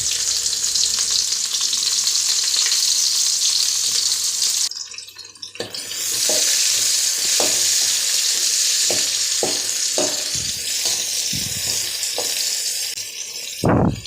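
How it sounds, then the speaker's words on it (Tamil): Onions sauté in hot oil with mustard seeds in a kadai for a kovakkai stir-fry, a loud steady sizzle that briefly drops away, then returns with sharp spoon scrapes and taps, with no talk. "வெங்காயம் நல்லா பொன்னிறமாக வதங்கி வரட்டும்."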